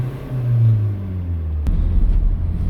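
A Vauxhall Vivaro van engine, with a fault code P0106 boost and atmospheric pressure mismatch, rumbles low and steady from inside the cabin on a test drive, with a soft thump and shifting drone partway through.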